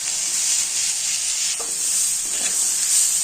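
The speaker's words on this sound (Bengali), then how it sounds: "অল্প লাল হওয়া পর্যন্ত সুন্দর করে চালগুলো ভেজে নিব" Gobindobhog rice frying in ghee and sunflower oil, a steady bright sizzle running throughout with a couple of soft stirring scrapes partway through.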